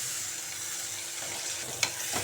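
Tomatoes and onions sautéing in oil in a kadai give a steady, soft sizzle, with a single sharp spatula scrape near the end and a fainter one just after.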